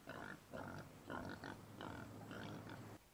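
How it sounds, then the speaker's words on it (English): Pigs oink and grunt in a film scene, several short bursts in quick succession over about three seconds, fairly close and clear against a quiet background. "I love how movies have pigs oinking constantly"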